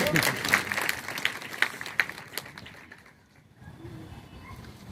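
Audience applause at a student award and motivation ceremony, scattered claps mixed with crowd noise and a voice over it, fading out after about three seconds.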